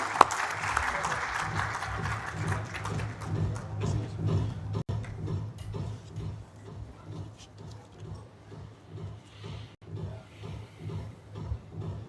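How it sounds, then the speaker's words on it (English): A large audience at a business summit applauds, loud at first and then thinning into scattered, rhythmic clapping, with a voice or two underneath. "So let's give a big round of applause and welcome Sri B.V. Naidu."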